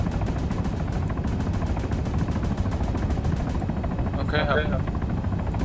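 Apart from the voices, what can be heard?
helicopter flying in video game ARMA III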